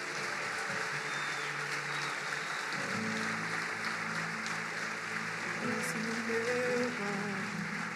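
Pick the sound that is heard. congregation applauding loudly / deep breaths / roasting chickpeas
congregation applauding loudly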